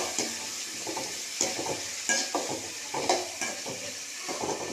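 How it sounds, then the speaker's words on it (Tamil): Four large, finely chopped onions sautéing in a pan for crab fry, a soft background sizzle broken by regular scraping strokes of a spoon stirring them roughly every half second. "இப்போ 4 பெரிய வெங்காயம் ஆட் பண்ணிக்கலாம். ஃபைனாக சாப் பண்ணி வச்சுருக்கேன். இது கொஞ்சம் நல்லா வதங்கட்டும்."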